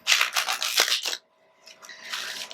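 Tarot cards being shuffled, two quick papery riffling bursts separated by a short pause, close and fairly soft with no talking.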